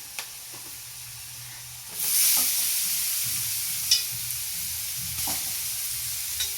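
Grated radish dropped into a hot pan with sautéed onion, giving a sudden rising sizzle that settles into a steady frying hiss, with occasional clinks of a stirring spoon and no talking.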